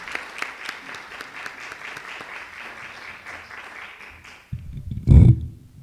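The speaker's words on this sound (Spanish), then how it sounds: "con un aplauso aquí en el auditorio" Moderate, rhythmic clapping fills an auditorium at an electoral debate hosted by the Arequipa bar association. It fades after a few seconds and ends with a brief close thump.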